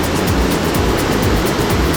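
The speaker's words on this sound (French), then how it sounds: "Alors que là je peux toucher quasiment la cascade." A waterfall cascading near Pont d'Espagne in the Pyrenees roars as a dense, steady rush of water heard from very close, loud and unbroken throughout with no voices.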